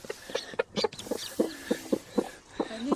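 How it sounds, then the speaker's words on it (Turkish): Chicks and hens in a coop, with a series of close, repeated clucks and short chirping calls coming in uneven bursts. "Bunlar civcivlerim."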